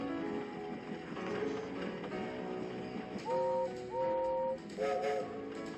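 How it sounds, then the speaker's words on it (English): Reginald, a steam engine, gives two clear whistle blasts followed by a shorter third, sounding over a busy mechanical background with rumble and clatter. "This is probably the first time we hear Reginald's whistle"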